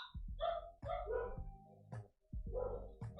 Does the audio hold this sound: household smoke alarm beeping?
no